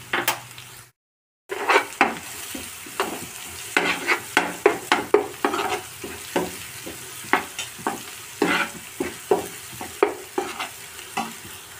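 Onion and ginger-garlic paste with turmeric frying in a curry pan, a close sizzle broken by a brisk, irregular series of spatula scrapes and knocks against the pan, after a brief cut to silence near the start.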